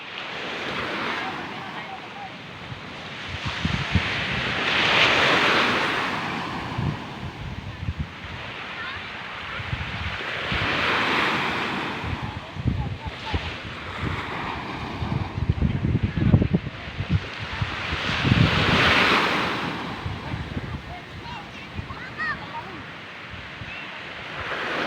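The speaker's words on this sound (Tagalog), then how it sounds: "Yan ang alon. Yung banggaan yan." Ocean waves surge and wash around fishing boats (bangka) at sea, rising and falling in broad rushing swells with heavy wind buffeting the microphone throughout.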